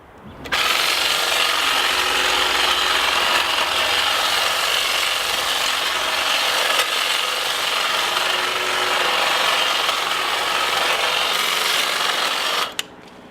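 A battery-powered lithium-ion hedge trimmer cuts through a garden hedge, its steady, loud buzzing drone running unbroken for about twelve seconds before it abruptly stops.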